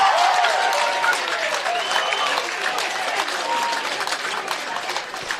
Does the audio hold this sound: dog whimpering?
no